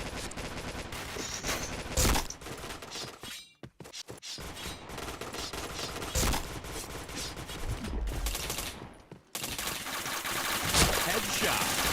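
Rapid bursts of gunfire from a shooter video game, with dense overlapping shots and brief pauses, loud and continuous throughout, while a player talks over the action.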